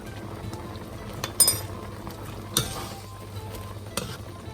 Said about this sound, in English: We're going to mix in 1 teaspoon of potato starch